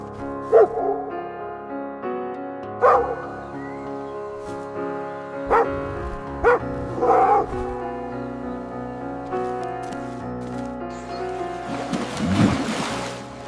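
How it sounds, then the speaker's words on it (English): A fox gives a series of sharp, short barks spaced a second or two apart over steady background music, ending in a louder, rougher burst of noise. "Fox bark."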